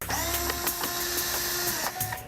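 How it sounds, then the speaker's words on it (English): A 3D printer building a reproduction of an ancient Palmyra column runs steadily and close, its whirring motor tones shifting pitch with the print head's moves, broken by frequent short clicks and ticks. "3D printer."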